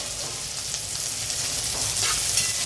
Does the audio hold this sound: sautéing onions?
yes